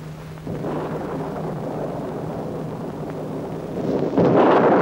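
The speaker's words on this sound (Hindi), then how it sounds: "ये तूफान कभी खत्म भी होगा?" Stormy weather with rumbling thunder and rain in a 1961 Hindi film, a steady broad roar that surges louder near the end, no voices.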